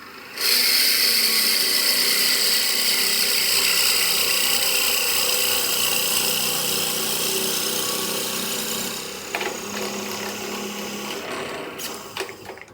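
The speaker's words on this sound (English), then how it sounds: "now we drill." A drill bores into a wooden pen blank on a lathe, giving a steady, high-pitched machine whine that runs for several seconds before the pitch shifts and the sound tapers off with a few brief clunks near the end.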